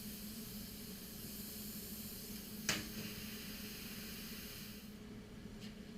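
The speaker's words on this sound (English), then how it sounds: "what it looks like when you forget to turn the compressed air on to your plasma cutter" Plasma cutter fired without its compressed air supply, a faint continuous hiss with a brief sharp crackling burst midway and a quieter tail as it cuts out near the end.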